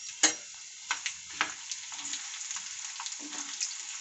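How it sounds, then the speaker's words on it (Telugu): Chana dal, urad dal and mustard seeds crackle in hot oil for tempering, with sharp spitting pops over a steady close sizzle and a few scrapes of stirring. "ఇలా నూనె వేడెక్కిన తర్వాత తాలింపు వేసుకుందామండి."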